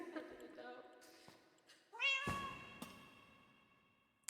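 Cats meow loudly in a video game, a rising drawn-out cry with bright harmonics and a shorter call after it, over low background game audio.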